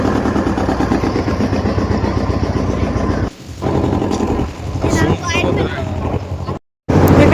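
A river ferry boat's engine runs at close range on the crossing to Mayapur, a steady dense chugging drone that briefly dips and then cuts out for a moment near the end, with voices faintly mixed in.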